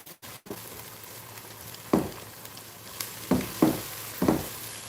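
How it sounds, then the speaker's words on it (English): Onions, tomatoes and garlic fry together in a pan for chicken kabsa, giving a soft, steady sizzle punctuated by four sharp spatula scrapes and clanks, close up with no talking. "you can see the onions, tomatoes and garlics are getting cooked together"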